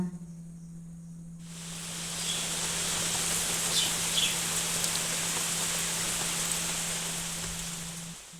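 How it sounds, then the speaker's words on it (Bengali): Heavy rain falls outside as a steady, soft hiss that starts abruptly and holds at an even level, with a low constant hum beneath it. "বাইরে এখন প্রচণ্ড বৃষ্টি হচ্ছে"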